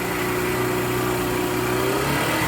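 Yamaha Factor 150 motorcycle engine, with a faulty stator and magneto, runs steadily with a constant buzzing drone and an abnormal noise, close up with no talk.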